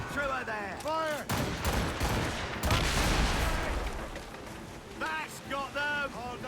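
Naval battle in Assassin's Creed Rogue: a rolling barrage of ship cannon volleys booms across the water in dense, loud bursts, framed by a voice calling out before and after the firing.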